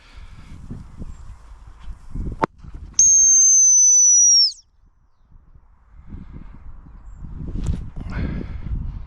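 A single long, shrill dog-training whistle blast rings out for about a second and a half, loud and close, between stretches of footsteps rustling through long grass.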